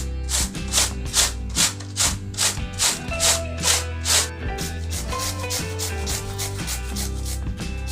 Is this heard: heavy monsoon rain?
no